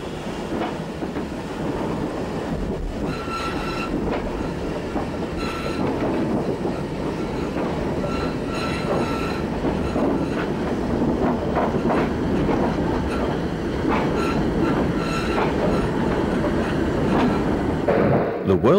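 Great Western steam train with chocolate and cream coaches running on rails, a steady loud rumble of wheels and rail clatter throughout with faint rhythmic clicks, no talk over it.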